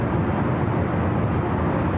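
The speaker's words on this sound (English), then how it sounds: "Should be a north side takeoff." An airliner taking off at LAX, a broad, continuous, loud roar of jet engines, steady and unbroken with no voices.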